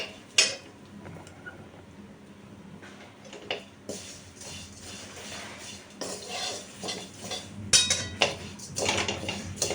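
Flattened rice (aval) being roasted in a pan, with a spoon scraping and clinking against the metal in irregular bursts over a quiet dry rustle, close and fairly soft, with no talk.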